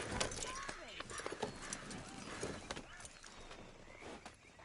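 Horse hooves clip-clop in a video game, a fairly faint, steady run of hoofbeats under ambient game sound, with a brief snort or whinny mixed in.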